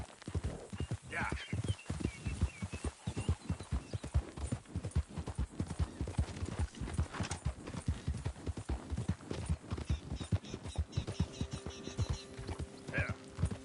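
Rapid, regular clip-clop of horse hooves on a hard surface at a stable in Red Dead Redemption 2, going on without a break and fairly close, with an occasional faint whinny.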